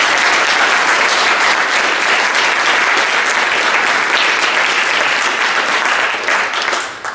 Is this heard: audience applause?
yes